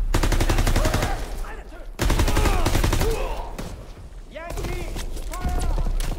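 An MG42 machine gun turret in the World War II shooter Call of Duty: WWII rattles out rapid bursts of gunfire in a battle scene, with voices talking over the shooting.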